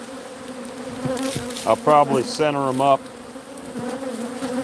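Agitated honeybees buzz steadily around an opened hive during handling by a beekeeper, a dense insect drone running throughout while someone speaks briefly over it in the middle.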